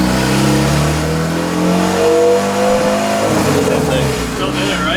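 A car fitted with an S300 turbo revs loudly during a test pull, the engine pitch climbing and falling as it accelerates, close and continuous with voices talking over it.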